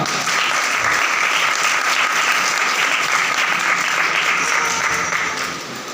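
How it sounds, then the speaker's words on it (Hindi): A church congregation claps loudly and steadily at a Pakistani Christian sermon, a sustained dense roar of hands that carries on evenly and eases off at the very end. "ते मुल्क पाकिस्तान वास्ते जोर नाल ताली बजाओ।"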